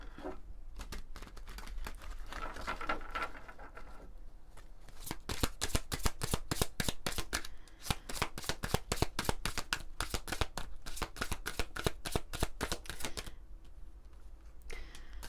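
An oracle card deck of love-themed cards is shuffled in rapid, crisp riffling bursts of papery clicks, close and steady for most of the stretch with a brief pause near the start and another near the end.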